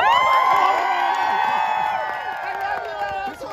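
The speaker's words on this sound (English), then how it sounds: "Stand by. Applause." Crowd at the National Christmas Tree lighting ceremony cheering and applauding, a loud dense wash of claps and whoops with tonal music or voices layered through it, holding steady and easing slightly toward the end.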